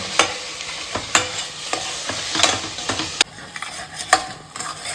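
Vegetable pulao ingredients with a coconut, ginger and garlic paste stirred and fried in a pan, a soft continuous sizzle broken by sharp scraping strokes of the spoon against the pan, close and without speech.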